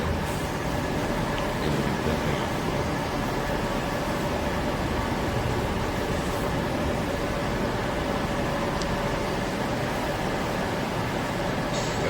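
A steady low rumble of a Yongin light rail train passing Everland station fills the scene, even and continuous with a broadband hiss, no clear approach or fade.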